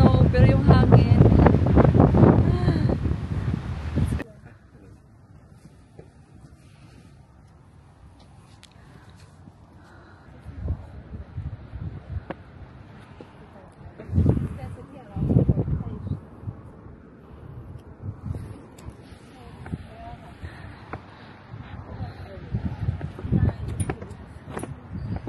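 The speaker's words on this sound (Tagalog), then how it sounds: "grabe ang hangin for today's video" Strong wind buffeting the microphone on a mountain at Fjellstua, Ålesund, Norway, loud rushing at the start, then quieter gusts swelling and fading in waves, with people talking at times.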